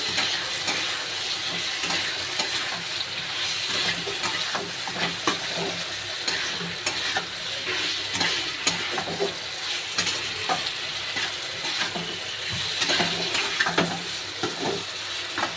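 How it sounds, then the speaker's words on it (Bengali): Boiled potato and green chili are stir-fried in a pan for a prawn and potato dish, with a steady sizzle and frequent scraping stirs throughout, heard close and alone without talk. "কাঁচা লঙ্কাটাও দিয়ে দেবো, দিয়ে একটু কষে নেব।"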